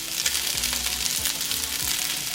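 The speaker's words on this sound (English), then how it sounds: "I will add my onion" Onion tossed into a frying pan of bean sprouts for chop suey, giving a steady, close hiss of sizzling oil with a few soft stirring scrapes and no talk.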